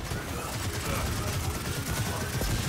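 An overheating gun fires in Gears of War 4 as a steady stream of dense, rattling shots at a sluggish rate, loud and close throughout.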